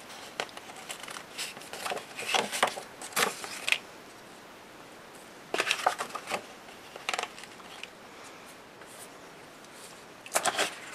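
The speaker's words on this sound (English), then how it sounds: "need a scissor here, cut out the rest" Scissors cut paper for a handmade mini scrapbook album, a run of close, crisp snips and rustles in several bursts with quiet pauses between them.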